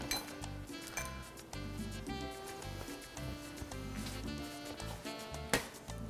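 Crispy chicharrón (fried pork skin) dropped into a bowl while making mofongo, giving quiet clinks and light rattling knocks over a steady musical background.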